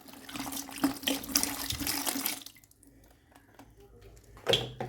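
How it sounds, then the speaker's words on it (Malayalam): Water splashes steadily into a bottle while homemade phenyl floor cleaner is being mixed, pouring for about two seconds before fading to quieter trickles and a short splash at the end. "കുറച്ച് വെള്ളം ഇതിലേക്ക് ഒഴിച്ച് കൊടുക്കുക."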